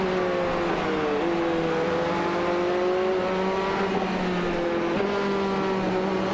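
Sustained GT3 race car engine drone at Suzuka in iRacing, a steady loud hum with slight pitch dips as the throttle lifts briefly, continuous throughout with no talk.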